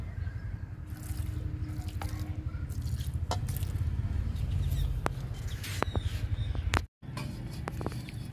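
Liquid spraying onto a small jasmine plant, a steady close hiss with light patter and drips running throughout, broken by a brief pause near the end.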